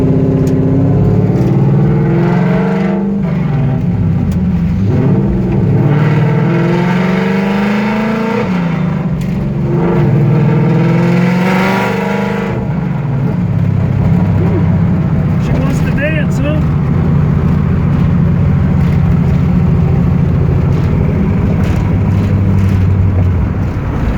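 A 1967 Eleanor pro-touring car with a Coyote engine and six-speed idles and runs steadily nearby, a loud continuous engine drone with slight rises in pitch, while someone talks over it throughout.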